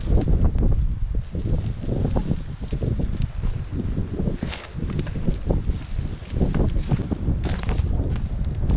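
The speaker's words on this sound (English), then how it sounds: "It's nice and wide open, but it's kind of windy." Steady wind gusting across an open, wide campsite in the Adirondacks in early spring, a continuous low rushing roar buffeting the microphone with faint rustling throughout.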